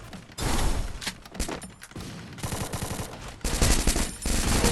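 Rapid bursts of automatic gunfire in the video game Free Fire, loud and close, with dense rattling volleys separated by brief gaps and a heavy final barrage.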